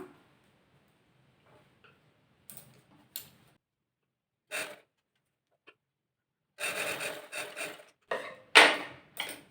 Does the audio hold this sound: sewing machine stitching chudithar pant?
yes